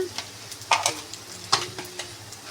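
Poppy seeds and salt being stirred and fried in a pan, giving a soft sizzle with a few louder scraping clatters of the spoon against the pan.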